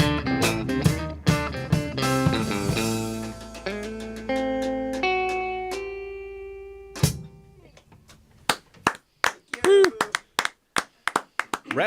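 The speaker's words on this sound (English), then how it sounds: "Rousing applause here in the studio." A live song ends in a studio with a sustained chord, then a small audience gives scattered, separate handclaps that grow sharper and more spaced toward the end.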